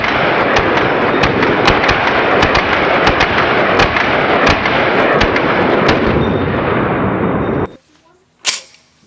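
A 9mm carbine with a standard recoil buffer fires a loud, dense string of shots at close range for several seconds, then cuts off abruptly, leaving near-silence and one brief sharp noise.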